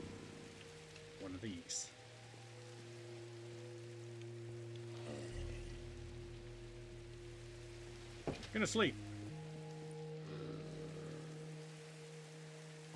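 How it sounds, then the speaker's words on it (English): Rain falls in the video game Minecraft as a soft, constant patter that runs quietly under someone talking briefly, with low tonal game music alongside. "Hopefully the rain clears up."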